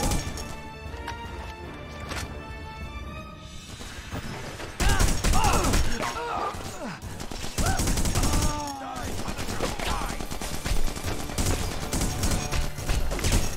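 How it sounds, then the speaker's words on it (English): Rapid gunfire and crashing impacts from the 2004 video game The Punisher, loud bursts of shots and smashes running throughout with a player's voice over them. "I know there's a guy shooting from behind."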